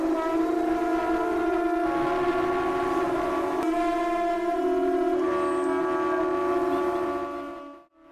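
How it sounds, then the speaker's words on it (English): Conch shells blown at a Key West, Florida conch shell blowing contest, several sustained horn-like tones overlapping loudly and steadily for several seconds before cutting off abruptly. "This is the conch shell blowing contest."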